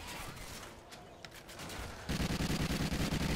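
A light machine gun fires in Call of Duty: Ghosts Extinction as a rapid, evenly spaced automatic burst, loud and close. Scattered combat noise comes first, and then the burst begins.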